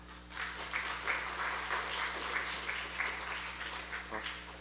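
An audience at a hackathon presentation event for an open-parliament project claps in welcome, a moderately distant patter of many hands that holds steady for several seconds with no voices.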